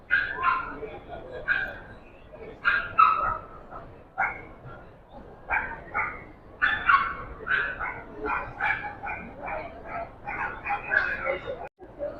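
Several dogs bark and yip repeatedly in quick, overlapping bursts, filling a busy, noisy pet expo hall.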